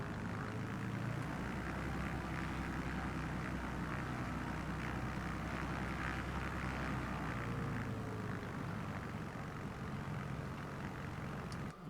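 A light aircraft engine drones steadily in Microsoft Flight Simulator, a constant propeller hum with no clear build or fade.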